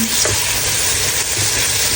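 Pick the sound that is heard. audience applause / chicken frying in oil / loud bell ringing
chicken frying in oil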